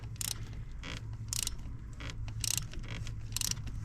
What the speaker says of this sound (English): cleaning up the threads that were damaged here.